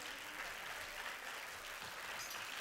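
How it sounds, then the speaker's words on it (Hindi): Audience at a cultural function in Mumbai applauding, a soft, even, continuous patter of many hands heard from a distance with no speech over it. "उनके लिए ज़्यादा से तालियां तो बजनी चाहिए कि नहीं"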